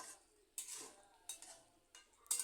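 Masoor dal with tomato being stirred in a pan, the spoon scraping in four short separate strokes with soft sizzling between them, close and fairly quiet, with no talk.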